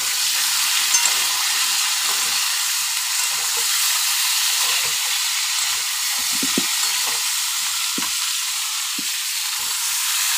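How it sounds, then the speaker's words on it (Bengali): Vegetables fry in a pan for a chicken stew, giving a loud, continuous close sizzle and hiss with occasional soft stirring scrapes, no voices. "সবজিগুলো দিয়ে দেওয়া হলো। সবজিগুলো আবার ভাজা হবে।"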